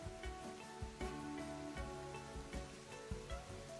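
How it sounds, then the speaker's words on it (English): Heavy downpour falls steadily across a roller coaster theme park in a simulation game, a dense continuous hiss of rain with repeated soft thumps and faint music-like tones beneath, fairly quiet and without voices. "Nothing like opening a coaster in a absolute downpour."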